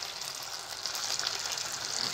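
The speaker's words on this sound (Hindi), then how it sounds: "और अब इस बटर में मैं डाल दूंगी 1 कप रेड सॉस।" Red hot sauce hits melted butter in a pan, giving a continuous close, bright sizzle and bubbling hiss with no talk over it.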